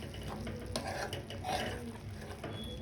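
Prawn masala stirred in a pan, with soft scraping and light clinks of a spoon over a faint low sizzle, close and quiet for a few seconds.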